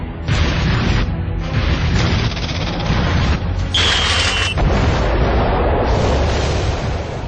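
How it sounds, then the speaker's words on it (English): An atomic bomb detonation at the 1945 New Mexico test, a massive sustained roaring blast with continuous deep rumbling and crackling that stays loud throughout. "Robert Oppenheimer leads the team that develops the atomic bomb"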